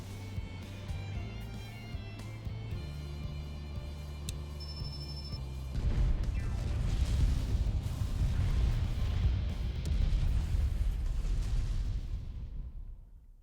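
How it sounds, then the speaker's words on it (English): Explosions and fireworks in Final Fantasy XIV open with layered game music and chimes, then give way to a long, dense rumble of booming blasts that fades out at the end. "I'm certain there were more explosions there than there was supposed to be"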